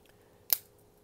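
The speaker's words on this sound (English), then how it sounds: "You've got your scissors, which makes it a great EDC item." Scissors on a Victorinox Huntsman Swiss Army knife give a single crisp snip, short and fairly quiet against a near-silent background.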